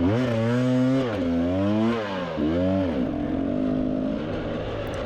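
A cross-country motorcycle engine revs hard several times at a spring enduro race, pitch rising and falling in quick surges with the wheel lacking grip, before settling into a rough, loud idle.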